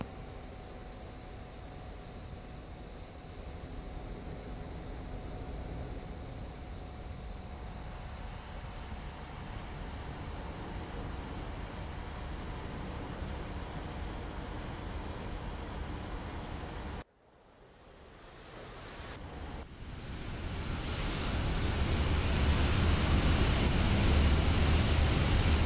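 A fighter plane's engine in a combat flight video game drones steadily and fairly quietly, drops out briefly, then returns louder and rougher as the aircraft loses a wing and hydraulics.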